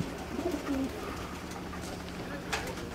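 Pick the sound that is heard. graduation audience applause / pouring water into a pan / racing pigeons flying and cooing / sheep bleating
racing pigeons flying and cooing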